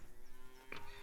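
A single short cow moo sounds from livestock in a farming video game, set against steady low ambient hum and a faint background tone.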